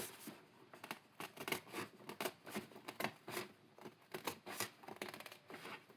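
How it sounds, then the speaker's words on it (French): Scissors snip repeatedly through material while trimming a homemade storage box to size, a quick irregular series of soft close clicks and cuts, faint and without talk. "Je crois que j'ai pas pris les bons ciseaux."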